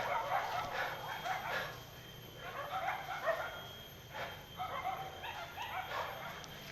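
Several dogs bark and yip in scattered bursts at a moderate distance, with some whimpering mixed in over outdoor background noise.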